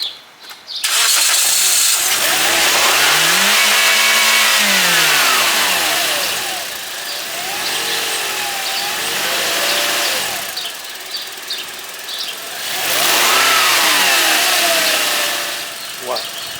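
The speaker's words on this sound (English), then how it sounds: "I'm gonna start the car." A car engine starts and revs up and down in several loud, close swells, with a steady roar between the revs and brief broadband noise at the start.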